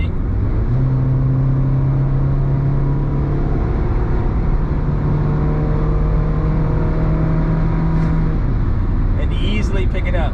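Honda S-MX car accelerating hard on a road at around 100 km/h, with steady loud engine and road drone as the gearbox downshifts and revs rise, a wind-swept cabin hum throughout.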